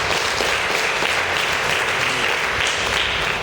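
An audience at a school excellence awards day in Sokone applauds steadily and loudly, a dense wash of many hands clapping continuously throughout with no pauses.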